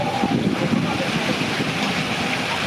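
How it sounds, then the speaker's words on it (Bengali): Strong wind roars continuously against the microphone during a storm in Sylhet, with a dense rushing wash like heavy rain blended into the gusts. "বাতাসও বাড়ছে, বৃষ্টিও বাড়ছে, প্রচুর বাতাস দিচ্ছে আর আকাশে প্রচুর চমকাচ্ছে"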